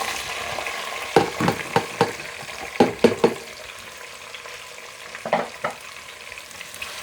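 Onions fry in a pan for chicken do pyaza, a steady sizzle under a series of sharp spoon scrapes and taps against the pan, several in quick succession.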